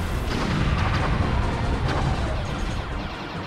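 Bombs explode in the Star Fox 64 video game: a dense, continuous roar of booming blasts and crashing impacts, loud and unbroken for several seconds with no voices over it.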